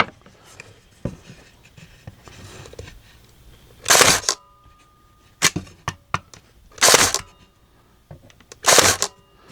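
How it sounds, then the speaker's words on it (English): A Metabo HPT NP18D SAL cordless pin nailer fires nails in a few loud, sharp bursts, each a brief hiss and snap, with quiet handling noises in between. "This is the NP18D SAL cordless pen nailer."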